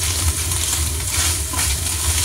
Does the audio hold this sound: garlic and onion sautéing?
yes